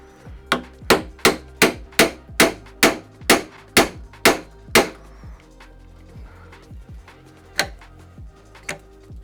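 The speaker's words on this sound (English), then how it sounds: "Get your hammer." A series of sharp metallic hammer taps on the prime valve of a Graco Mark V airless paint sprayer in a quick, steady rhythm, about a dozen strikes, then a pause and a couple of lighter, isolated taps.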